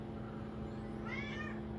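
A cat meows a few times in a short, rising, harmonic call at moderate distance over steady background hum, with no talking.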